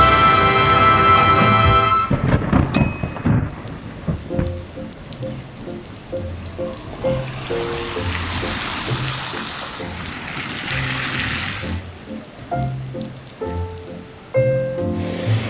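Rain falls on surfaces in Florence, a dense wet patter and drip that carries on steadily at a moderate level, with some louder tonal sounds near the start and at the end.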